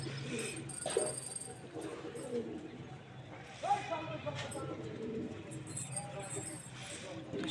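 Pigeons in a new loft, soft intermittent cooing with a few metallic clinks, faint and close, mixed with people talking nearby.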